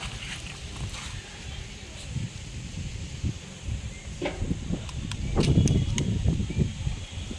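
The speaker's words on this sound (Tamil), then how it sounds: "அப்படியே மேலே பாருங்களா, சரியான காற்று." Strong wind gusts outdoors ahead of coming rain, a continuous rumbling buffeting roar with rustling that swells louder toward the end. Faint, muffled voices may be present underneath.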